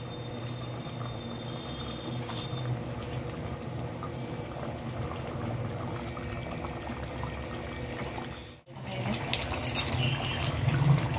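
Fish curry gravy made with a large katla fish bubbles steadily in a pan, a soft continuous simmering hiss with a brief dip before it resumes slightly louder.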